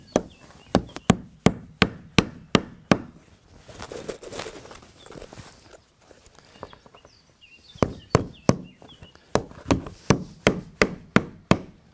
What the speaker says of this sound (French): Et je cloue maintenant la plaque au milieu avant de clouer en haut.